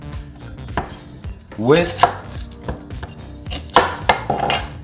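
A knife cuts through a lemon on a board with a few sharp, close chopping knocks at irregular intervals, and a voice briefly speaks between the cuts.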